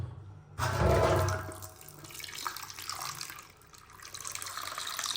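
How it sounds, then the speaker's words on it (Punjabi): Water runs from a tap, pouring over hot food to cool it in a village kitchen; after a quiet start the stream gushes loudly for several seconds, close and unbroken, with no voices. "ਥੋੜਾ ਜਿਹਾ ਪਾਣੀ ਉੱਤੇ ਪਾ ਦੇਈ ਨਾ ਠੰਡਾ, ਠੰਡੇ ਹੋ ਜਾਣ।"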